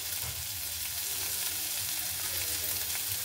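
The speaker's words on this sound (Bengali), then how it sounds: "একটু আমি ভালো করে গ্রেট করে নিচ্ছি যেন দানা দানা না থাকে তার জন্য" Food is grated by hand, producing a continuous rasping scrape with a faint repeating rhythm of strokes. It is close and fairly even throughout.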